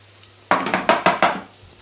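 Breaded green asparagus sizzling in a hot pan, with several sharp crackling bursts as the pieces hit the oil, loud and close.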